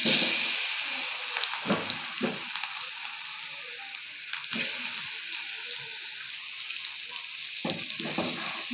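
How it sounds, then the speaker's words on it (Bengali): Green olives, with five-spice seeds already added, sizzle and crackle steadily in a frying pan for a pickle. Repeated scraping stir strokes come through close and clear, with no voices. "দিয়ে নেড়ে দেবো, বারবার নাড়তে থাকবো কারণ নিচে যেন লেগে না যায়।"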